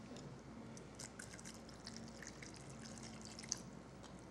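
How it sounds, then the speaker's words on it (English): Dry white wine poured into a pan, a faint continuous trickle and splash with light dripping, close but quiet, with no talking. "Now into that, I'm going to put just a little cup of dry white wine."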